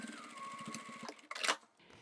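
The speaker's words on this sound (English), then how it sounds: "We'll top stitch from one side to the other, only say 1/8 of an inch" A sewing machine top-stitches along the edge of a toiletry bag with a plastic insert, running in a steady whirring burst for about a second before stopping, followed by a brief rustle of fabric handling.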